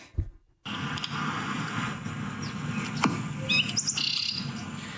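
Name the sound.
person imitating bird calls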